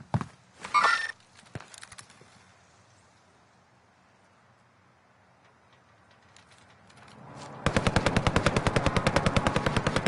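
Automatic gunfire in the video game Warzone: a short burst of shots at the start, a quiet lull, then a loud rapid stream of evenly spaced shots ripping through the final seconds.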